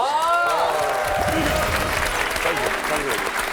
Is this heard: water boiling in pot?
no